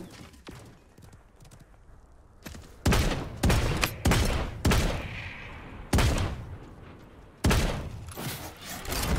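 Shotgun blasts in the video game Realm Royale ring out as a handful of loud, separate booms spaced a second or two apart, with sparse game sounds between them and no talk.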